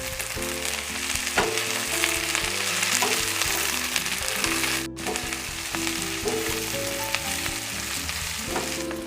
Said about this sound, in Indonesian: Saya aduk-aduk, ditumis-tumis.